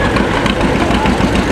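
An old tractor engine idles steadily and loud, a continuous low rumble running through the whole stretch with no talk over it.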